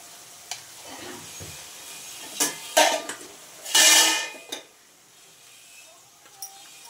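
A jackfruit-prawn curry masala with salt and turmeric is sautéed in a pan, with a quiet sizzle under scattered clinks and scrapes of a spoon against metal and one louder stirring rasp, all without talk.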